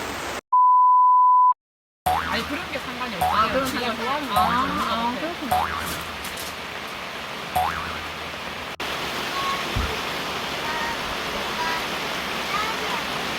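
Heavy rain falls steadily at a riverside auto campsite during autumn family camping, a dense continuous hiss after a brief electronic beep, with some voices and clatter mixed in early on.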